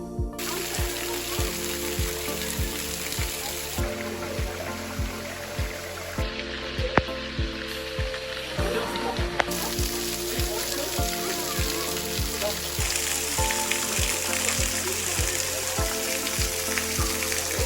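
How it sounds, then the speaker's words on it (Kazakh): Water streams down Butakovka waterfall with a steady broadband rush, continuous and fairly loud, over a repeating rhythmic music bed. "Бұл сарқырамадан ағатын су да гүрілдемейді, сыңғырлап ағатын сияқты."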